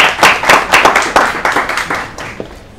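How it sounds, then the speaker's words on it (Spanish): A small group clapping briskly and close by, a short burst of applause that tapers off after a few seconds. "un aplauso para vos"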